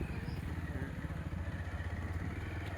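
A motorcycle rolls slowly along a rough village road toward a temple during a Navratri festival trip, its engine a steady low rumble with rattling clatter running continuously throughout.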